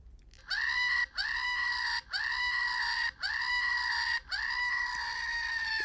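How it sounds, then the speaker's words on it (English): Five loud, drawn-out goat screams follow one another in steady succession, each a harsh bleating yell separated by brief gaps, with no voices present. "Fred, the screaming goat"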